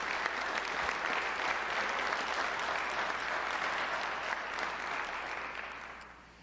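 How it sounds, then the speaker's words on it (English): An audience at a high school football awards ceremony gives sustained applause, a dense clapping that holds steady and then tapers off at the end. "So let's give him a round of applause."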